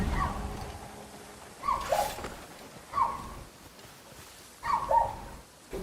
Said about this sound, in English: Goddamn fucking dogs.